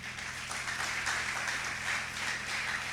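An audience applauds a lecturer at a church conference, a steady, even wash of clapping that holds at moderate loudness throughout, with a low hum beneath.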